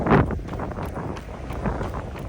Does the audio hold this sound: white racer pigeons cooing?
no